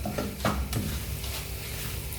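Curry leaves crackle in the frying masala of a homemade beef pickle, with a steady close sizzle, a few sharp pops near the start and light stirring scrapes throughout.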